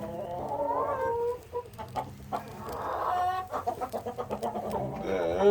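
Chickens and a young rooster cluck and squawk close by in a backyard coop, a busy run of short, rhythmic clucks and calls with a brief word of speech.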